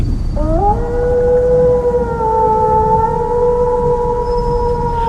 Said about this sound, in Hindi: लोमड़ियां हू हू करती हुई आवाज करने लगी।